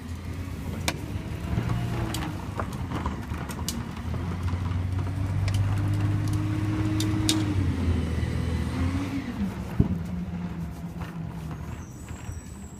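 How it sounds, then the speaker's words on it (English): A truck drives past with a steady, low engine rumble that holds for most of the stretch and eases off near the end. A brief knock sounds partway through, and no one speaks. "there's the truck."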